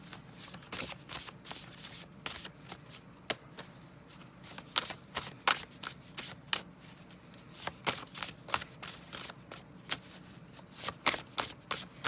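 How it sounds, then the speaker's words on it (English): Tarot cards are shuffled over and over by hand, giving close, crisp riffling bursts in an uneven rhythm, with quiet pauses between them and no talking. "even the awkward, big, emotional barometer cards I'm going to shuffle on camera"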